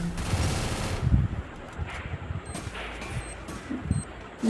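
Rapid bursts of gunfire and explosive bombing thumps in the mobile battle game Free Fire, irregular shots and booms popping over a noisy game background, moderately loud.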